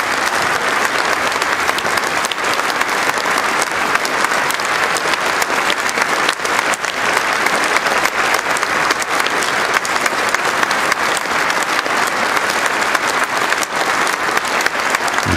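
A large crowd in Westminster Hall gives the Queen a long, sustained ovation at her 2012 Diamond Jubilee address, loud and steady clapping filling the hall without letup and with no voices rising above it.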